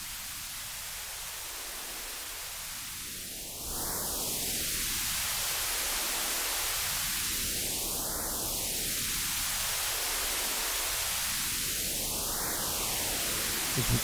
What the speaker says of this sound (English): with a low resonance, we get our noise, and we get a nice phasing sound